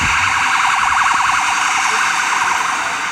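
An ambulance siren wails in a steady rising-and-falling sweep, loud and close over constant traffic hum, passing by on a street in Hackney.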